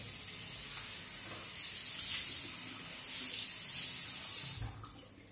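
Tap water runs into a sink while a face is rinsed during a shaving routine, a steady close hiss that swells twice as hands splash under the stream, then stops with a few drips.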